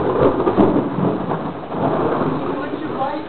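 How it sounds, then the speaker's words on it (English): Thunder rumbles through a steady, heavy thunderstorm downpour, a dense continuous roar that stays loud throughout, with no speech. "Thunderstorm is going."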